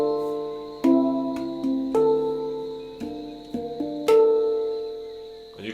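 A steel handpan rings out the Twinkle melody as about seven clear struck notes in a slow, even sequence, each tone sustaining and fading into the next, played alone.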